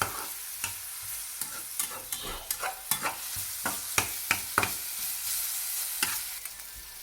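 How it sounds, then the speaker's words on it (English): Green chilli and ginger garlic paste fry in a pan for kothu parotta under a steady sizzle. A spoon scrapes and clinks against the pan in irregular strokes as the mixture is stirred. Nobody speaks. "green chilli and 2 teaspoon ginger garlic paste. Stir it well until the raw smell goes out."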